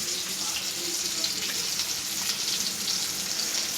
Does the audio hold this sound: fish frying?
yes